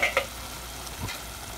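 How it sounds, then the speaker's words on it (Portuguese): Pot of white rice cooking on the stove, giving a steady, soft sizzle and bubbling hiss close by, with a couple of brief clinks near the start and no talking. "Tô aqui, ó, nessa outra panela aqui, fazendo arrozinho branco"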